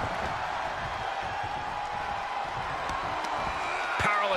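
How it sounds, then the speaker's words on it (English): Video game crowd noise from a WWE 2K22 wrestling match at NXT UK TakeOver Dublin, a steady dense roar of cheering filling the arena, loud and continuous with a brief sharper burst near the end. "The sound of this crowd is deafening"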